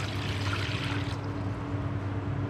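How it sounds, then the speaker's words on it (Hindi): A glass of water is poured into a cooking pot while making gulab jamun syrup, giving a steady splashing pour that thins out after about a second into a quieter trickle over a low background hum. "एक बर्तन लिया है, उसके अंदर मैं 1 गिलास पानी डाल देती हूँ।"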